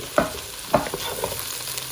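Close up, carrot, green peas, leeks and frozen corn hiss in oil as they are sautéed for Sri Lankan fried rice, with two sharp spatula knocks against the pan over a steady sizzle.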